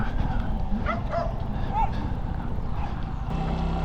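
A dog barks and yips several times in short bursts over the steady low engine rumble of a Bajaj Pulsar NS 125cc motorcycle, with some faint background voices.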